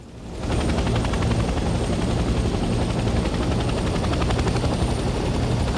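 Steady helicopter rotor and engine roar from a flight in the video game Hell Let Loose Vietnam, rising quickly after a brief quieter start into a loud, continuous whirring drone with a faint rhythmic blade chop.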